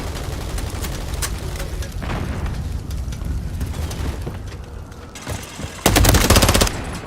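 Gunfire in Call of Duty MW3, with dense overlapping automatic fire and booming impacts rumbling throughout and a loud close burst of rapid shots near the end.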